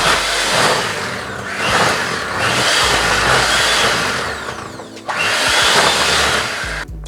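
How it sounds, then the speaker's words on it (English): Sweet potato pie filling with added coconut being mixed: a loud, steady whirring churn that dips briefly a few times and then resumes at full strength. "Now you can mix it up again."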